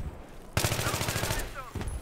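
Rapid automatic gunfire in Battlefield 3, a loud burst of closely spaced shots starting abruptly and running for over a second, with a voice speaking near the end.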